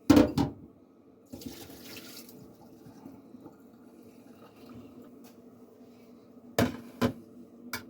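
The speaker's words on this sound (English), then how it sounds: "Next, we're going to go ahead and drain the water off of these noodles." Cooked noodles are drained of their water in a kitchen, a short watery splash and clunk at the start, then a quiet trickle, ending with two sharp knocks of a pot or colander.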